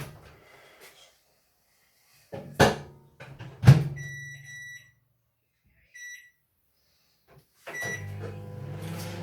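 A microwave oven is started to heat food: a door shuts with a thud, buttons give short beeps, and then a steady low hum runs at the end.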